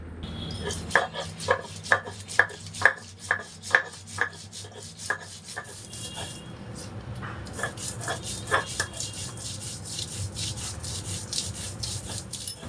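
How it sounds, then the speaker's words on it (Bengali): Washed mustard seeds are ground into paste by hand, a close rhythmic rubbing and grinding with evenly spaced strokes, sharper at first and then softer and more continuous. "সরিষা দানাগুলো আমি খুব ভালো করে ধুয়ে নিয়েছি এখন বাটাবাটি শুরু করে দেবো"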